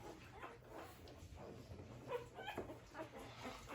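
Merle American Bully puppies whimper and yip softly in short, faint, scattered cries against a quiet indoor background, with no talk.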